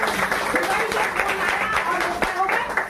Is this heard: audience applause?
yes